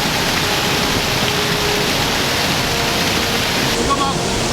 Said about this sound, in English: Looks like we're going through them and under. Might be tricky though, because this water's flowing mighty fast.